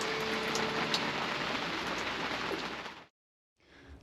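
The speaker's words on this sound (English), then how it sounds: "A bit of rain but no wind at the moment" Light rain the day before Hurricane Beryl arrives, with no wind, hisses steadily in a dense patter, then cuts to silence for a moment before resuming more faintly.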